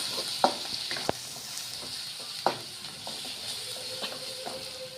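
Ginger garlic paste frying with browned onion in a pan, a soft continuous sizzle with a few sharp clinks of a spoon stirring against the pan, close and moderately quiet.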